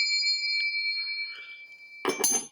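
Hand bells from a collection ring out loudly, several bright metallic strikes in quick succession near the end after quieter tones and faint sustained ringing earlier.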